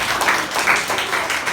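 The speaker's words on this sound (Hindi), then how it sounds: "वेरी गुड, ताली बजाओ।" Children clapping together in a classroom, a dense close burst of applause lasting the whole moment.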